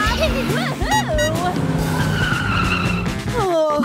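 A car engine revs and tires squeal and skid in a loud sound effect, with rising and falling engine whines and screeching bursts over a steady driving rumble.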